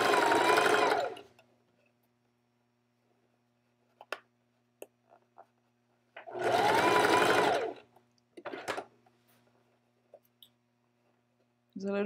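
Sewing machine stitching stretched elastic, two loud bursts of rapid mechanical whirring separated by quiet pauses with a few sharp clicks and handling taps, close by and without talk.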